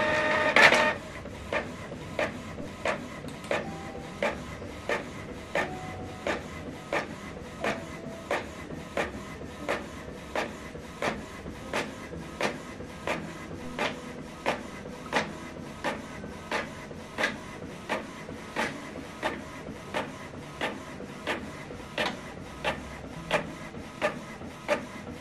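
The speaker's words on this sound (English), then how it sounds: "You can see the document is printing out." A Canon printer printing a document, with an evenly spaced run of sharp mechanical clicks and feed ticks repeating about once a second for the whole stretch, close and fairly quiet, after a brief louder start.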